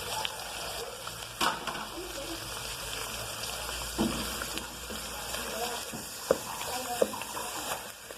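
Tomato, onion and bell pepper frying in a pan, with a steady, soft sizzle throughout and a few sharper clicks and pops of stirring and utensil contact near the pan.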